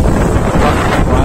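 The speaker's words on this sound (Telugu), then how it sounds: "గాలి" Wind gusts loudly across the microphone at Parigi Cheruvu lake in Hindupur, a continuous buffeting roar with no voices.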